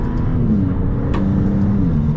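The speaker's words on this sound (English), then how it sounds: "the twitters and flutters of those turbos is just addicting" A Maserati MC20's twin-turbo engine cruising on the road, a steady low drone with faint fluttering chirps from the turbos on top, close and continuous without any talk.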